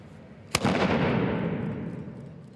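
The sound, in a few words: guns being fired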